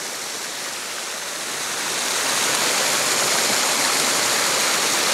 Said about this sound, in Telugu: చూడండి వాటర్ ఫ్లో ఎలా ఉంది, ఏ రేంజ్లో ఉంది అనేది.